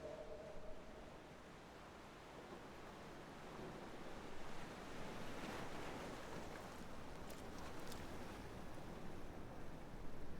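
Sea swell crashes and rolls against a rocky bay beside a cave, a steady broad wash of surf that swells louder midway and stays continuous, with no voices.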